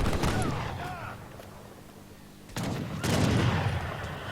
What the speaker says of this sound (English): Falconets coming in and taking a shot at the organ guns